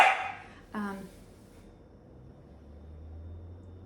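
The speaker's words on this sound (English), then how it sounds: "He's barking and looking at me." A single sharp Pomsky bark up close, followed by quiet room tone and a low hum.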